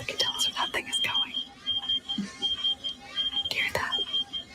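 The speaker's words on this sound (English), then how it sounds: "That beep shows where the creature is." Soft, steady high-pitched beeps from a creature tracker repeat at an even pace, faint and thin under quiet talk and background noise.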